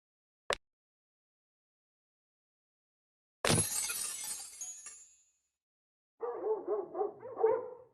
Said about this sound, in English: Oh, I can hear barking.